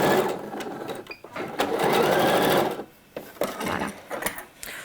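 A sewing machine stitching a seam on a garment, running in bursts of rapid buzzing stitches with short pauses between runs, close and clear.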